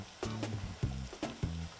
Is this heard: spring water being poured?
no